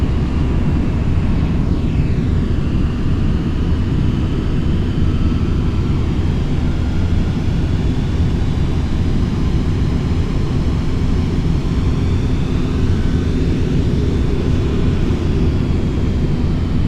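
Boeing 747 engines in flight in Flight Simulator X, a loud, steady, continuous roar with a dense low rumble and faint whining tones, unbroken throughout.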